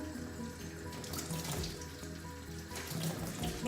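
Tap water runs steadily into a sink while makeup brushes are rinsed, a close, continuous hissing splash with slight changes as the brushes move under the stream.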